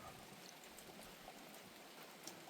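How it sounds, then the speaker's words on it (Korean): Light rain beginning to fall outdoors, a faint, even patter of scattered drops hissing steadily throughout with no voices. "이제 일을 다 마치고 나니까 비가 내리기 시작합니다."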